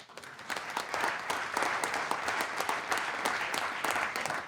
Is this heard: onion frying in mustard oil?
no